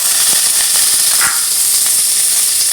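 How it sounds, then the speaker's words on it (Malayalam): Chopped shallots and cumin seeds dropped into hot oil with curry leaves for a Kerala mung bean thoran, a loud close hiss and crackle that keeps going steadily, with a brief sharper burst partway through. "നല്ല ജീരകം, പിന്നെ നമ്മളെ ചെറിയുള്ളി നന്നായി അരിഞ്ഞത് അത് ഇതിലേക്ക് ഇടുകയാണ്"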